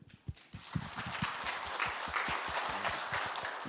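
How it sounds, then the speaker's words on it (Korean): Congregation applause for a praise team during a church revival service, a brisk crowd clapping that swells after a sharp opening clap and stays busy, with low thumps underneath. "마하나임은 박수해줘야죠"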